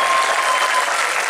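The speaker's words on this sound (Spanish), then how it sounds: "Para el aplauso más fuerte para John Lennon por su cumpleaños" Loud, dense applause and cheering from an audience at a birthday tribute to John Lennon, a continuous wash of clapping and shouts filling the whole moment without pause.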